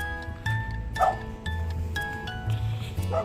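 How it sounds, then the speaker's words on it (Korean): A dog barks a few times from somewhere off along a Jeju Olle trail (course 18), short yaps at a moderate distance over outdoor ambience, with a little human sound around. "강아지가 어디서 짖고 있는데 누가 짖는지 모르겠네요"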